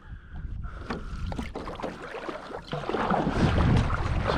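A paddle dipping and pulling through the water as a kayak moves along while trolling a lure for bass off Cornwall, with splashy strokes and sloshing over steady wind noise, close to the microphone.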